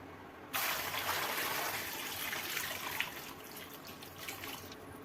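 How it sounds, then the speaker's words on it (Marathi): Steady running water gushes and splashes as if a tap pours into a basin while gooseberries are washed in salt water, starting abruptly and continuing loud and even throughout. "हे मी दोन किलो जे आवळे घेतलेले आहेत ते मी मिठाच्या पाण्यामध्ये स्वच्छ धुवून घेणार आहे"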